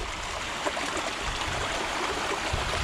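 Water rushes over a waterfall swollen by rain, a steady, loud broadband roar that stays constant close by.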